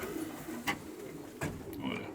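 A racing pigeon coos softly in a few short, low throaty calls, faint and close in a quiet loft.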